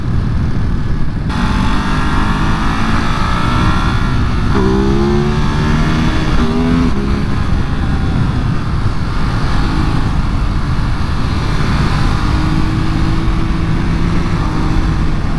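A 2023 Ducati Monster SP motorcycle engine drones loudly and steadily, rising and shifting in pitch as the rider accelerates through gears up a hill climb, with heavy wind rumble throughout.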